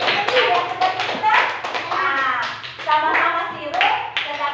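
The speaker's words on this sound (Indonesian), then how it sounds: "Oke, tepuk tangan dulu semua." A classroom of children claps together in quick, uneven bursts of hand taps, close and fairly loud, with voices talking over and between the claps.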